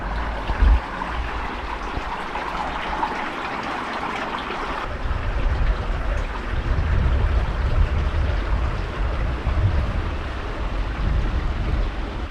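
Creek water pouring through a newly installed culvert on rural land, a steady, close rushing and gurgling flow that swells fuller and heavier partway through and keeps going without speech.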